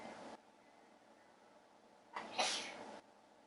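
One person sneezes once, a short sharp burst close by that stands out against an otherwise quiet room.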